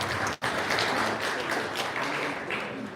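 Audience applause at a Pakistan–USA tech investment conference in Silicon Valley, a dense steady wash of many hands clapping that fills the room throughout, with a brief dip near the start.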